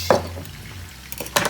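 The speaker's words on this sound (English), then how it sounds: "I'm going to just tip a little bit of browning inside here to give it a bit of colour as well" Dark browning sauce tipped into a pan of sticky honey glazed chicken wings, a short liquid splash and drip with a clink of the pan, close and brief with no talk.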